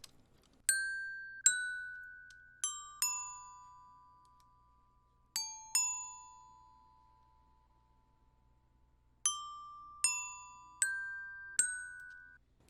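Dry, unprocessed glockenspiel with no EQ: about a dozen crisp metal-bar strikes in short clusters separated by pauses, each with a sharp attack and a quick ringing decay, quiet and close in an otherwise silent room.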